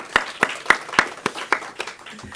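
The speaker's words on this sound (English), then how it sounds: "Let's give them another round of applause" A church congregation claps in a slow, sparse rhythm, about eight distinct claps spaced roughly evenly and fading slightly toward the end, with faint voices underneath.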